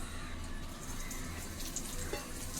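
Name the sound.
mustard and fennel seeds frying in oil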